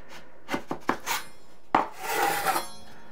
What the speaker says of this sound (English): you can take like this, 6-inch taping knife, just kind of carefully scrape it off like that